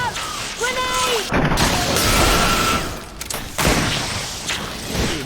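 A grenade blast in the video game Greedfall rings out amid loud, busy combat noise, with sharp impacts and a sustained rumble while voices speak over the fight.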